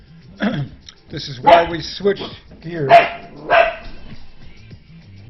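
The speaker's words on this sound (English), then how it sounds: "Sorry about my dog there." A dog barks several times in quick irregular bursts, fairly close, mixed in with someone speaking over it indoors.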